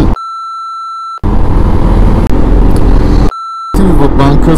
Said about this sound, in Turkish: Dur, bir telefon çalıyor.